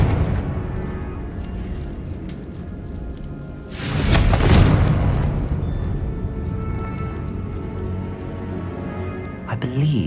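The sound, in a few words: Confringo spell explosion in video game Hogwarts Legacy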